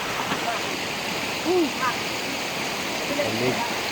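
Sicao Falls waterfall at Tres Marias, a steady, loud rush of falling water that fills the whole clip, with brief faint voices and calls on top.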